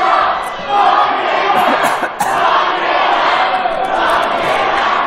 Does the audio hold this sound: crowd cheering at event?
yes